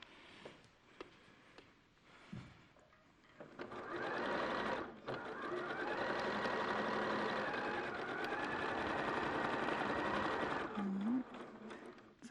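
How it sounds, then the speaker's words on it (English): A sewing machine stitching through cloth on a table runner runs steadily for several seconds as a quiet, even mechanical whir, with a few small clicks before it starts and a brief squeak as it stops. "So what I'll do is just sew just on the cloth."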